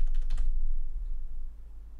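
A short burst of quick keystrokes on a computer keyboard while code is being written, close and fairly quiet, then fading into near silence.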